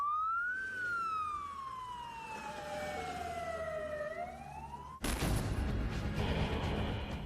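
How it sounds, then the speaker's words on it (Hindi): An emergency siren wails during a Russian missile attack on Ukrainian cities including Kyiv, one long, loud tone sliding slowly downward before cutting abruptly to a rougher, noisy wash of sound. "इमरजेंसी सायरन बजने लगे।"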